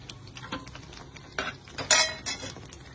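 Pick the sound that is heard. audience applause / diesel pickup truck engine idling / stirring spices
stirring spices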